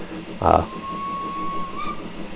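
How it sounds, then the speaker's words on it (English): A short hissing burst is followed by a thin, steady steam whistle held for over a second, quiet and slightly distant, from the LNWR Greater Britain 2-2-2-2 steam locomotive in Train Simulator Classic. "The whistle sounds could stand to be louder."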